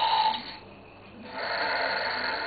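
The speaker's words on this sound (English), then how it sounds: "It's the snoring donkey." A snoring donkey toy gives a mechanical snore, a raspy inhale-like rush followed by a pause and a longer breathy exhale, close and moderately loud.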